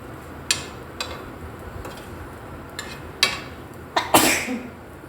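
Short, sharp coughs from a person with a cold, scattered across a few seconds: several quick bursts, then a louder, rougher cough near the end, close by and with no talk.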